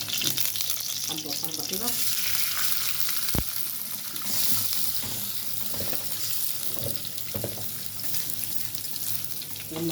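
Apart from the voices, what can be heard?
ghee and oil sizzling in a pan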